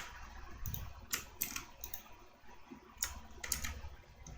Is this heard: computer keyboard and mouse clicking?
yes